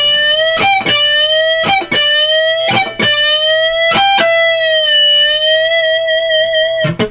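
A distorted electric guitar plays a solo, with a sustained high note and sharp repeated picked attacks and string bends, loud and alone without any voice.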